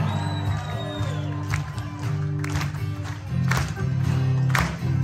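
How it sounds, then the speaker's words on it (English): A crowd at a live concert of a tribute band claps along, with cheers and whoops over the steady hum and tones of the music, heard from within the audience. "Come on, clap your hands."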